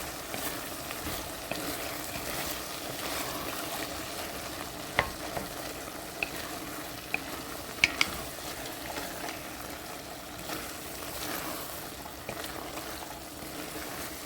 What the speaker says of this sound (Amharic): አሁን ደግሞ እንዳልኳችሁ ትንሽ ቦሎቄ ያለኝ እሱን እጨምራለሁ።